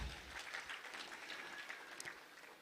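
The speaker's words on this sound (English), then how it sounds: "Clap for yourself, please." Faint, distant clapping from a summit audience in Africa, a steady wash of many hands lasting a few seconds without any talk over it.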